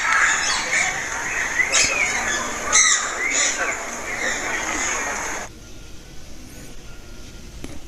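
Sparrows and parrots bathing at a small water setup call in shrill, overlapping squawks and chirps for about five seconds, then the sound drops to a quiet outdoor hush with only faint distant calls.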